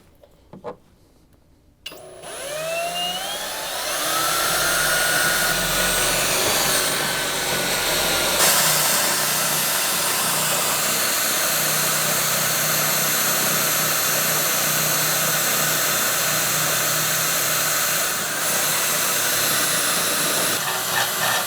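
Steady, loud whirring of a power drill boring a hole through the steel frame of a Jeep TJ while installing a tire carrier bumper, running continuously for about twenty seconds after a brief start.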